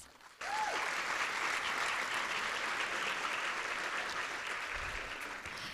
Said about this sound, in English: Let's give our new members a round of applause.